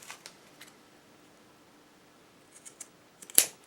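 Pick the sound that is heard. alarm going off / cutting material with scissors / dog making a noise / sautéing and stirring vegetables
cutting material with scissors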